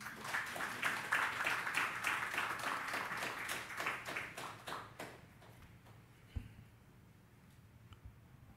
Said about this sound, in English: we started to hear the beginnings of the clap